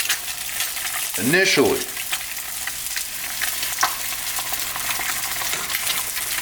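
Whole eggs hit a very hot pan and sizzle, a loud spitting hiss with a brief sweeping scrape as they are stirred, settling into steady crackling frying; a voice speaks briefly.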